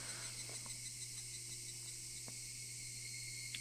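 Cicadas in the Higurashi: When They Cry video game drone steadily and faintly, a constant high-pitched buzzing that fills the background without pause, with no voices.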